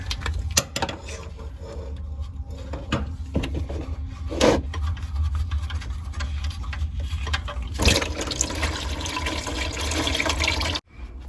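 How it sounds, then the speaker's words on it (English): Engine oil draining from the oil pan of a Subaru WRX makes a steady liquid trickle, with nearby clanks and rustling from work in the garage. "while the oil's draining"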